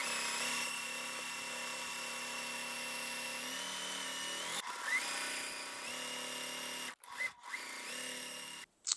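A sewing machine stitching quilt pieces together for a Halloween sew-along quilt gives a steady whirring motor whine that shifts pitch midway, then stops with a few short bursts near the end.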